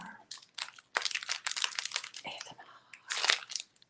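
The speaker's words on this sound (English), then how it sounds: "I have a fortune cookie." A fortune cookie cracked and crunched up close, with bursts of crisp crackling and crinkling in several rapid clusters and short pauses between them.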